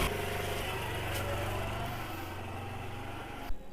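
A Japanese 50cc Super Cub motorbike, started after a year standing unused, idles with a steady, even putter at low to moderate volume, ending in a brief knock.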